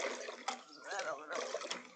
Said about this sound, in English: I just need to rinse.